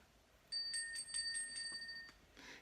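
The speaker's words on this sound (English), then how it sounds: "and a bell rings" A small bell rings in a staged reading of Macbeth, a few clear bright strikes over about two seconds with a soft hiss behind, fairly quiet and with no voices over it.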